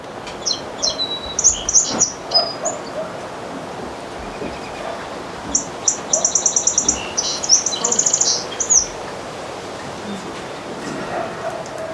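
A recorded Song Sparrow song plays back as bursts of bright, rapid trills and chirps in two clusters, set against an outdoor background hiss.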